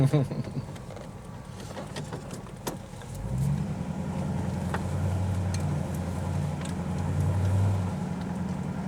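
A 1954 Mercury Monterey engine drones steadily while driving, a low rumble that swells and holds, with faint clicks and thumps over it.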